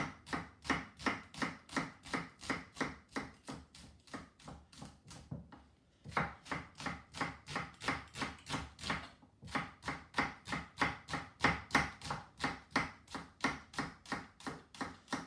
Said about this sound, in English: That's the safest way to cut an onion into half-moon slices.